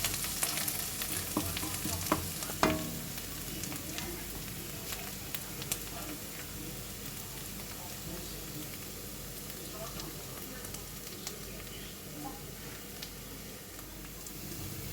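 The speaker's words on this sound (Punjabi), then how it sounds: "ਪਿਆਜ਼ ਭੁੰਨੇ ਗਏ ਨੇ ਜੀ ਚੰਗੀ ਤਰ੍ਹਾਂ" Onions fry in a pan for homemade spicy chicken kaleji, giving a continuous crackling sizzle broken by sharp scrapes and clinks as they are stirred, loudest early on and then settling into an even hiss.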